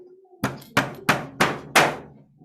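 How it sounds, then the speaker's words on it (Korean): A steel hammer strikes parts of a wooden storage cabinet being assembled, giving five sharp, loud knocks at a steady, even pace, each ringing briefly before the next blow. "이번엔 이 망치를 한번 써볼게요."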